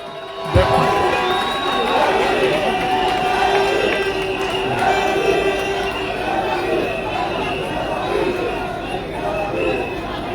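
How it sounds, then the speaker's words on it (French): A crowd at a political campaign rally in Mouila cheers and applauds loudly and continuously, with shouts and chatter layered over the steady roar. "Je vous demande d'applaudir très fort pour Monsieur Jules-Michael Mavioga"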